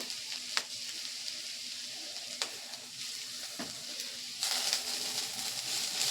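Sliced onions and halved green chillies frying in a pan, heard as a soft, continuous sizzle. Occasional light clicks of stirring come through, and the sizzle grows slightly louder near the end. No speech.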